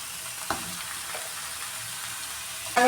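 Chicken frying with tomato in a pan for pepper chicken gives a continuous soft sizzle, with two or three brief stirring scrapes, the last one louder at the end; no voices are heard.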